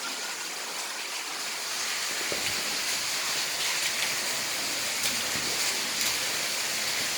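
Water flowing continuously through a lower cave gallery, a steady rushing hiss that grows slightly louder after the start, with faint knocks and drips scattered through it.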